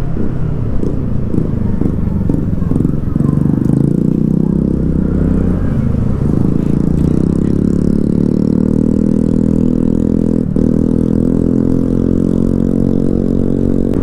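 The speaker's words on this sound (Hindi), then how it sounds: "एग्जॉस्ट की आवाज़ सुन लो यार आप" A vehicle fitted with a modified full exhaust idles and blips loudly close by, its deep rumble rising and falling through a few revs before settling into a steady, throaty drone.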